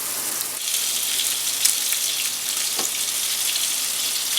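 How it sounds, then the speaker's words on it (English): Pork meatballs searing in olive oil in a pan, a steady loud hiss and crackle of frying with occasional small pops, no talk over it. "We'll flip them and start getting them searing on another side."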